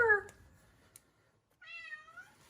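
A kitten named Jadis lets out a drawn-out, wavering meow at close range, preceded by a short earlier cry, with quiet moments in between.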